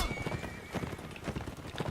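Horses in a Roman invasion battle video game gallop with rapid, steady clip-clop hoofbeats and a brief whinny, close and busy under faint battle noise.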